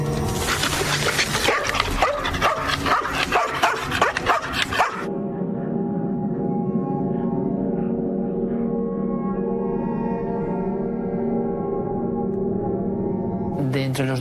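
Four specialised dogs barking rapidly and excitedly outdoors at night in Belchite, a loud burst of overlapping barks that cuts off abruptly into a quieter sustained tonal background.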